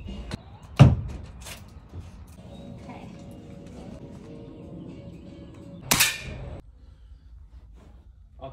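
Air rifle shots ring out at an outdoor firing range by a water park, two sharp cracks several seconds apart, with quiet ambience and faint movement between them.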